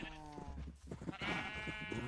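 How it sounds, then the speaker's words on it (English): Sheep in the video game Minecraft bleat in short, wavering cries, fairly close, with faint game ambience around them. "Could use some more sheep in here, I guess."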